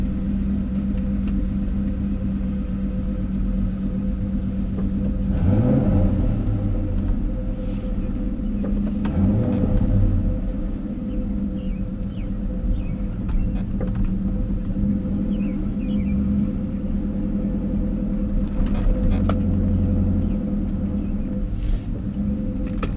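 A 2001 Ford Mustang Bullitt GT with its exhaust cutouts closed pulls away and drives normally, giving a steady low, muffled exhaust rumble with a couple of mild swells as it accelerates, heard from inside the car.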